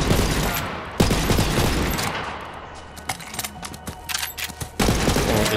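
Rapid gunfire from a weapon in Borderlands 3, loud bursts of shots with a heavy opening volley, brief lulls and renewed firing near the end, close and alone without talk.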